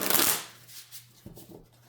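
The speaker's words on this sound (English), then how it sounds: "We're going to shuffle this deck right quick." A deck of playing cards is shuffled up close: a loud riffle burst at the start, then softer riffle and bridge flutters, with a faint low hum underneath and no voices.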